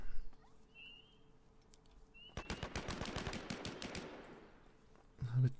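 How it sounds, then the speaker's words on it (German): Rapid automatic gunfire in the shooter game Last Man Standing rattles in a fast, even burst lasting about two seconds, moderately distant and fairly quiet, with low background noise before and after. "Wird geschossen."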